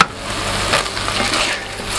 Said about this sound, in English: give this a big stir around here